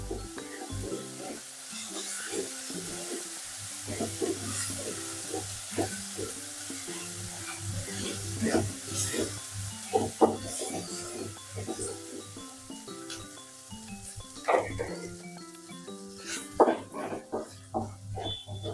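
Ginger garlic paste being stirred and fried in a pan, a soft continuous sizzle with frequent spoon scrapes and taps against the metal in an irregular rhythm, close up, with a faint hum underneath and no talk.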